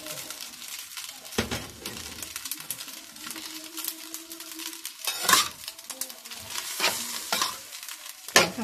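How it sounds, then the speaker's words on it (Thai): Glass noodles and Chinese cabbage being stir-fried in a pan, with steady sizzling, scraping and stirring strokes, sharper utensil clatters near 1.5, 5.3 and 8.4 seconds, and a faint radio voice murmuring in the background. "ผัดวุ้นเส้นนะคะเดี๋ยวเราจะใส่ผักกาดขาวนะคะเพิ่มไปอีกหน่อยนึงนะคะ"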